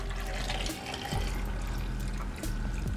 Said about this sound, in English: Next, we're going to add in our ½ liter of water